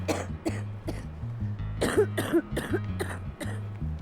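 A woman coughs repeatedly in a series of short harsh bursts, close by, with throat clearing over a low steady background hum.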